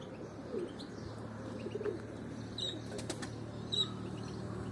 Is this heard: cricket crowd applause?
no